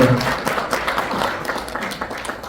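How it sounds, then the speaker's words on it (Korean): Attendees at a business breakfast forum give a moderate round of applause that gradually thins out, with a voice audible at the very start over the clapping. "자, 박수 한번 해주시기 바랍니다."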